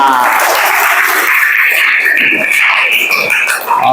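Classroom applause from students after a class activity, a steady continuous patter of many hands clapping close by, with some voices mixed in.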